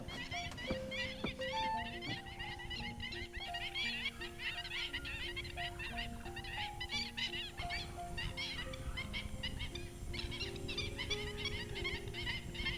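Black-winged stilts call in a noisy flock at Wilpattu National Park, Sri Lanka, with repeated sharp yelping and honking notes overlapping as birds squabble, moderately distant, layered over a dense chorus of other calls.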